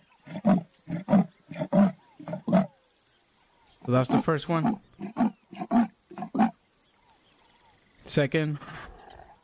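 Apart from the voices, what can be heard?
leopard roars in the video game Animalia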